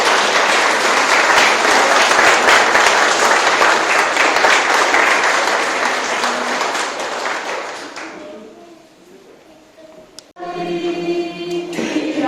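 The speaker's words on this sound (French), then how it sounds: "Est-ce que nous pouvons applaudir pour nos enfants?" A church congregation applauds at a baptism and first communion, a loud sustained clapping for about eight seconds that fades out, followed by a voice.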